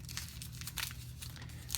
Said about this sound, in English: Now I'm just going to crumple that up and just keep on twisting.